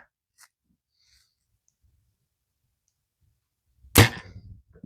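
A single sharp arrow release from an archer's bow at target practice, a sudden loud snap followed by a brief decaying twang, standing alone after near silence.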